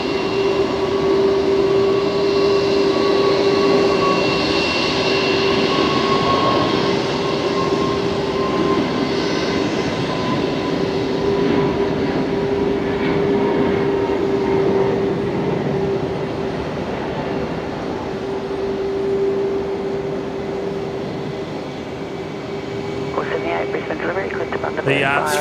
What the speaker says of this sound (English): The 321 Neo heading to Auckland.